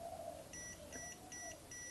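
A voltage detector on a Mustool MT866 clamp multimeter beeps in four short, evenly spaced high-pitched pulses, fairly faint, over a low background hum.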